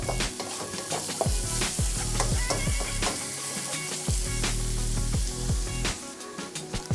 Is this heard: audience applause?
no